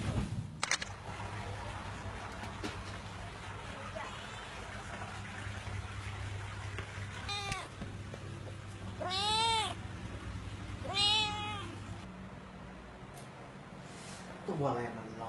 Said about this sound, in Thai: ตัวอะไรมันร้องอีกวันเนี้ยเสียงมันเหมือนแมว